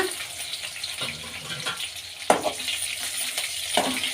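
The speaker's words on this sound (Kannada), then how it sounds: "ಈಗ ಹಸಿಮೆಣ್ಸಿಗೆ ಹಾಕ್ಕೊಳ್ಳೋಣ ಸ್ವಲ್ಪ ಹುರ್ಕೊಳ್ಳೋಣ ಈಗ ಶುಂಠಿ ಬೆಳ್ಳುಳ್ಳಿ ಹಾಕ್ಕೊಳ್ಳೋಣ" Green chillies, ginger and garlic frying in cooking oil in a pan for a spicy raw tomato chutney, a close steady sizzle with a few sharp clatters as the pan is stirred.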